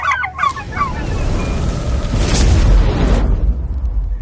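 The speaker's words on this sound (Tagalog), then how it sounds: "Ito po yung aking mga pabo." A flock of turkeys on a small rainy-season farm gives short gobbling calls near the start, followed by a broad rumbling background without talk.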